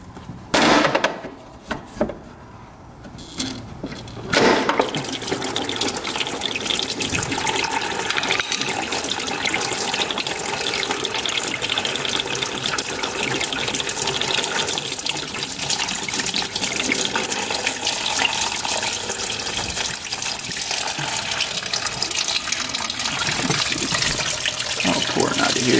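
Liquid gushes out of the front end of a plowing ATV under repair, a loud continuous splashing pour that starts after a few sharp knocks and runs steadily for over twenty seconds.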